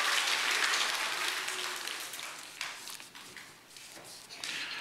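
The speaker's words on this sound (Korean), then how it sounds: "다시 한번 박수 한번 쳐줬으면 좋겠어요." A church congregation applauding during a Sunday worship service, a broad, fairly soft clapping that fades and thins out over a few seconds.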